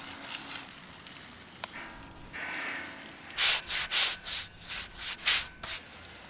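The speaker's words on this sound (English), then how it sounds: "Getting the beam cleaned up a little bit with the brush and the hose actually made a pretty big difference." A greasy steel beam in a basement being scrubbed with a brush and hose, first a low hiss of water, then a run of about eight loud, rhythmic bristle strokes rasping close to the microphone.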